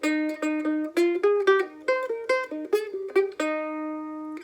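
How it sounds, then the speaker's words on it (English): A mandolin plays a bright, plucked melody of quick repeated notes in a lively rhythm, ending on a sustained ringing note, with no talking. "we're going to learn it on the mandolin."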